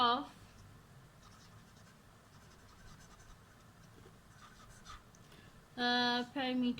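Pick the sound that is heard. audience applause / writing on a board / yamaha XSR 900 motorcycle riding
writing on a board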